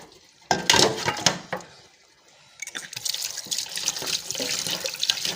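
Raw beef being washed by hand under a running kitchen tap, with close, loud splashing and dripping water that pauses briefly midway, then resumes as a steady rush of tap water into a sink.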